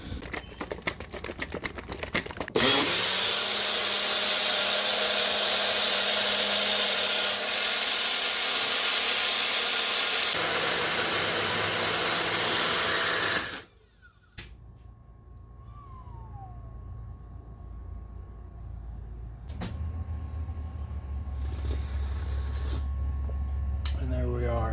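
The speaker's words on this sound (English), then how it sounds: "Time to get it blended up." A blender runs loud and steady for about ten seconds, then its pitch shifts as it keeps whirring, blending a plant-based protein shake with organic peanut butter in a trailer kitchen, before it stops abruptly and quieter handling noises follow.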